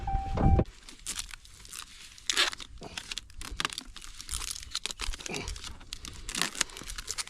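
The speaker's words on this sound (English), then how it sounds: "Let's tape those up before it gets wet." Tape is torn and pressed down to seal a leak on a Maine farm, making sharp ripping bursts and crinkly rustles in quick irregular bursts, close up with no speech.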